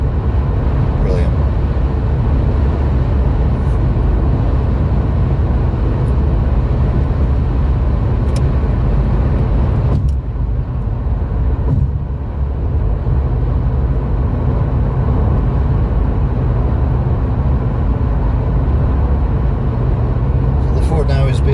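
A car cruises at about 70 mph on the M60 and M61 motorway while passing a van, with a steady, loud roar of road and engine noise that holds unbroken throughout, dipping briefly midway.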